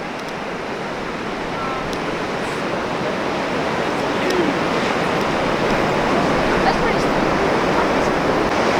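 Strong wind roars across the microphone over heavy surf breaking at J Bay during a big swell, a loud, steady, unbroken wash of noise that builds slightly throughout.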